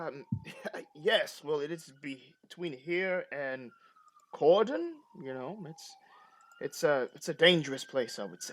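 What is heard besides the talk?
police sirens wailing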